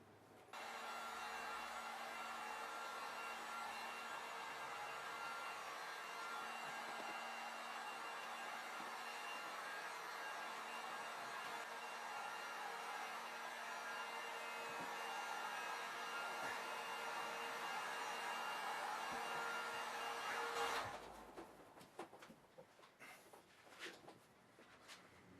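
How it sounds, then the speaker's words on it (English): A heat gun blows a steady, faint whooshing hiss while warming the adhesive on a spoiler for a 2018 VW Passat GT, running continuously and then cutting off near the end, followed by light handling noises. "Now I'm going to use a heat gun, and I'm going to warm it up for the adhesive."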